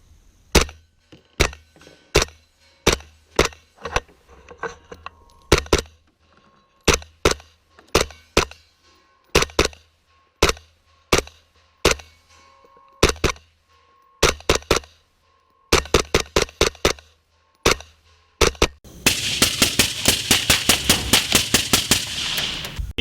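Suppressed rifle fire from a Grey Ghost Precision 10.5-inch Specter upper: sharp, evenly spaced single shots in quick strings with short pauses, ending in a fast rapid burst, loud and close.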